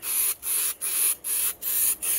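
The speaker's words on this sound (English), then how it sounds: "the nice thing about spray painting these smaller parts" Etch primer sprayed from a can onto small vintage chainsaw parts: about six hissing bursts in a steady rhythm, each split by a brief pause, close and clear with no talking.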